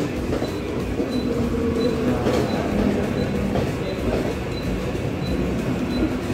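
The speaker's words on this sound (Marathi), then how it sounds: "फायनली आमची ट्रेन आली आहे इथून." Slow local train pulling into a Mumbai suburban station, a loud continuous rumble of rolling carriages with rhythmic clatter and faint high squeals, background voices mixed in.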